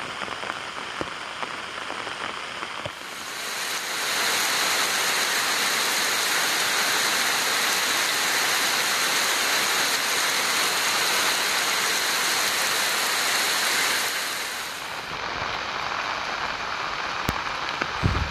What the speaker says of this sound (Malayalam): നല്ല മഴയാണ് നിങ്ങൾക്ക് കാണാൻ വേണ്ടി പറ്റും